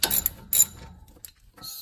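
A ratchet wrench loosens a 13 mm brake caliper bolt on a RAM 1500 pickup during a front brake pad change, giving short bursts of sharp clicking close up, with brief pauses between strokes.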